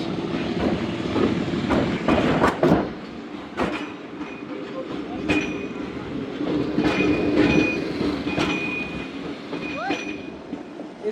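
Passenger trains on the Multan to Dera Ghazi Khan railway line roll past, with a steady clattering rumble of wheels, sharp metallic clanks and brief wheel squeals, close and fairly loud throughout.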